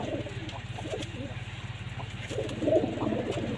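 Pigeons coo in a loft where a black pigeon hen has laid two eggs, soft repeated cooing rising and falling over a low steady hum, with someone talking close by.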